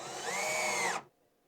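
A power drill runs steadily for about a second during a solar step light install, a high whining motor note that cuts off abruptly into near silence.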